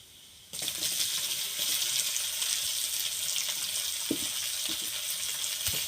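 Grated garlic, chopped onion, turmeric and chili powder hit hot oil in a pan and break into a loud, steady sizzle, close up, with a few small clinks of stirring.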